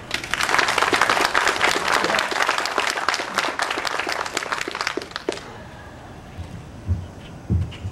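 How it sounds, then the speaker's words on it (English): A university dedication audience applauds a university president with dense clapping for about five seconds that fades out, followed by quiet room noise and faint sounds. "Let's give our university president, Dr. Hines, a round of applause as he comes forward"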